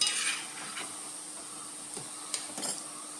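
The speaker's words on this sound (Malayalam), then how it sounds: "സ്പൂണും കൊണ്ട് ഇങ്ങനെ ഒന്ന് ഇളക്കി കൊടുക്കണം കേട്ടോ" A spoon stirs ring murukku as it fries in hot oil, giving a faint, steady sizzle with a few soft scrapes and taps of the spoon near the end.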